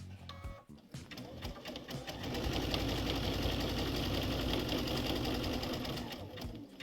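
A sewing machine stitches a quilt-as-you-go border down to the next corner, starting with a few slow stitches and then running in a fast, steady, close mechanical rhythm before easing off.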